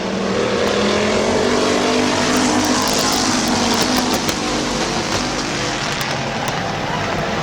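Race cars at Midvale Speedway roar down into a turn side by side, their engines a loud, constant buzzing drone with a sustained high-revving whine throughout.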